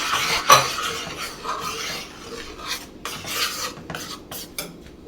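A spoon stirs and scrapes through a mango rasmalai milk mixture in a bowl, close rasping strokes with light clinks against the sides, irregular and continuous.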